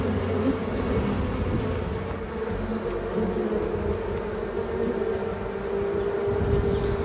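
Honey bees buzzing around the hives in a main apiary bee yard, a dense continuous drone of many insects, steady and close, with no talk.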